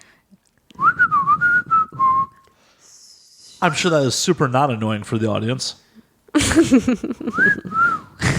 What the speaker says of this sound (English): Let's all try to whistle